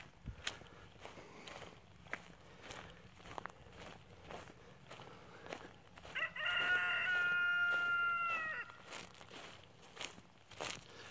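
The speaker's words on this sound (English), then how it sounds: "Roosters. That's what Gracie's afraid of." A rooster crows once at a distance, one drawn-out call amid quiet outdoor ambience and scattered footsteps crunching nearby.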